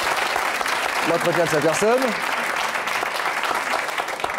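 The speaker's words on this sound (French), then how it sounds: "applaudissements pour monsieur" Studio audience applause on a French television talk show, dense steady clapping throughout with a voice speaking briefly over it.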